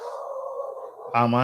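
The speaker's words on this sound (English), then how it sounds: "apologies for the dogs." Several dogs bark loudly and close by in a home as guests arrive, a dense burst of harmonic barks cutting in abruptly after steady talk.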